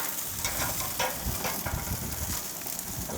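Onions and vegetables for a grilled vegetable wrap sizzle on an outdoor grill, a steady close crackling hiss with soft irregular pops, no voices.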